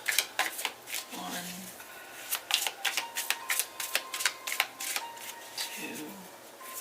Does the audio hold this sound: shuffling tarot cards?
yes